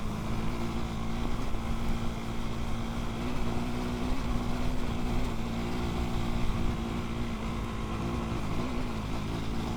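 A 2025 KTM 390 Enduro R motorcycle engine pulls under throttle on singletrack, giving a steady, loud, close droning roar that holds a constant pitch throughout without pause.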